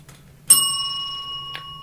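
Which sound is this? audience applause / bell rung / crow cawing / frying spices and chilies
bell rung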